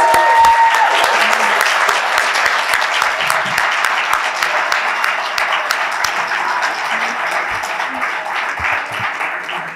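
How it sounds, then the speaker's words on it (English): Graduation ceremony audience at a leadership academy breaks into a loud, sustained round of applause for the graduates, dense clapping that slowly eases over ten seconds with a few voices mixed in. "If I could hear one more roaring round of applause for our graduates."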